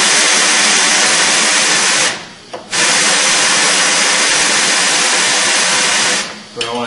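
A tire changer machine's turntable rotates with a loud, harsh mechanical whir that cuts out briefly and resumes, stopping again near the end.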